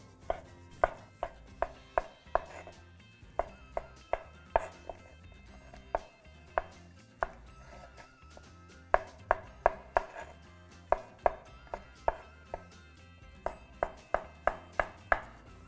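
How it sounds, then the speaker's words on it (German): Knife chopping vegetables into small cubes on a cutting board for a vegan white cabbage stew, sharp close knocks arriving in quick irregular bursts with brief pauses between runs. "kleine Scheiben schneiden"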